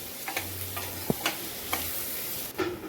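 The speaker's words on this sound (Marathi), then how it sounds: "कांदा मऊ होईपर्यंत फ्राय करून घेऊया।" Onion with salt frying in oil, a soft steady sizzle punctuated by a few light clicks and taps of a spoon against the pan, with no talking.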